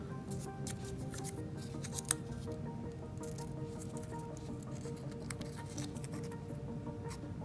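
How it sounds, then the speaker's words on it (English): Scissors snip through folded paper to cut a fin fillet for an Action Models F-16 model, a series of quick close crisp cuts over a quiet background hum. "we can cut both sides at the same time"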